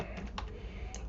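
Quick keystrokes on a computer keyboard, a few soft close taps in about a second over faint background hiss.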